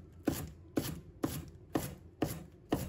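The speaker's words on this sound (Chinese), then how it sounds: "把葱叶切成葱花。" A knife chops green onion leaves on a cutting board in a home kitchen, giving six evenly spaced, crisp chops in a steady rhythm, close and clear with no talking.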